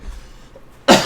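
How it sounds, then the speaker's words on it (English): A single sharp cough bursts out close to the microphone right at the end, following near silence. "that cough came in"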